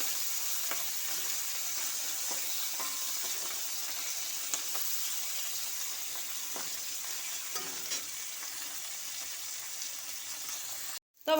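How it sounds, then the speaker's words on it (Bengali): Small puti fish frying crisp in hot oil in a wok, a steady close sizzle with occasional spatula scrapes and stirring clicks, no talking, cut off abruptly at the end. "মাছগুলো তো ভাজা হয়ে গেছে পুরো কড়া করে"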